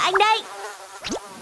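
Cartoon mosquitoes make a close, thin, droning buzz in two short whining bursts separated by a brief lull.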